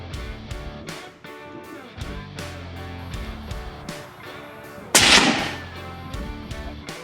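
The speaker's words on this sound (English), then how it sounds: "Let's go see if we can shoot a rock chuck with it" A single sharp, loud rifle shot rings out while hunting rock chuck in the field, cracking over background music with no voices.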